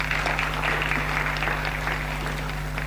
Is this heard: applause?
yes